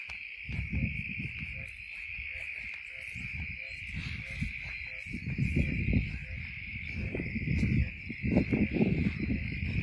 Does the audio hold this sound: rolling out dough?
no